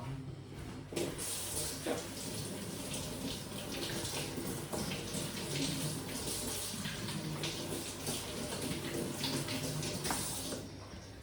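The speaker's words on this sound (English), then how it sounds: "let me go and wash them now with some hot water" Steady hot water running from a tap, splashing continuously and close, with spring onions being rinsed beneath the stream.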